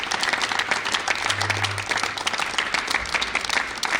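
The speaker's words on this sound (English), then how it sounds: "A round of applause, please." A competition audience in Abuja claps for a contestant reaching the national level, a brisk, dense round of applause from a roomful of people, fairly loud and steady.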